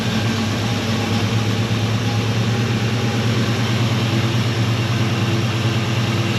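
A Chevelle V8 fitted with a Holley carburetor idles steadily and fairly loudly, its low rumble holding an even, slightly loping rhythm throughout with no voices over it.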